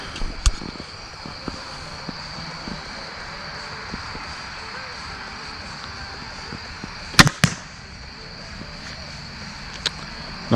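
A crossbow fired at a target 20 yards away at dusk outdoors, one sharp snap and thud standing out above a steady background hum and faint wind.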